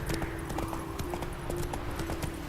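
Roach, the horse in The Witcher 3, trots in a steady, even clip-clop of hooves on the ground, with no talk over it.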